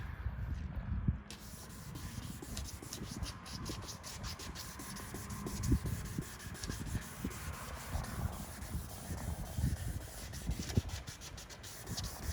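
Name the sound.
sanding a car headlight lens with sandpaper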